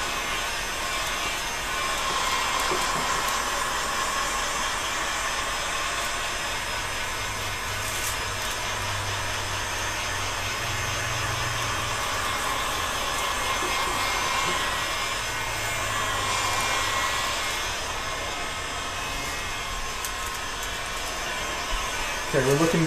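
A heat gun blows a steady, even whoosh of hot air across PVC pipe being shaped into a bow, running continuously close by with no breaks.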